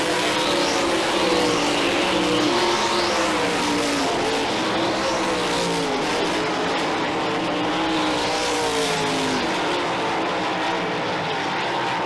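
Race cars roar around the Merrittville Speedway oval in a sprint car event, a dense, loud engine drone that swells and sweeps as cars pass, continuous throughout with no talk.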